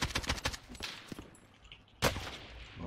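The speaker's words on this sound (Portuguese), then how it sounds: "Cuidado aí, tiro, cuidado aí." Gunfire in the video game Call of Duty Warzone: rapid bursts of shots crowd the first second, then thin out, and one loud close report cracks out near the end with a ringing tail.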